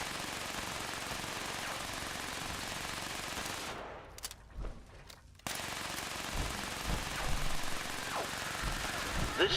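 Automated turrets fire in the video game Fallout 76, a sustained rattle of rapid gunfire that drops out briefly partway through, then resumes at full strength.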